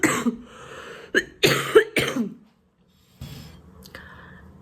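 A few sharp, harsh coughs in quick bursts close by from someone recovering from an illness, followed by a pause and then quieter breathy sounds.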